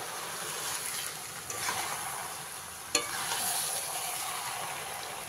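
Sugar being stirred into pui shak greens frying in a pan for a fish-head chorchori, a steady broadband sizzle with scraping stirs throughout and one sharp clack near the middle, no talking.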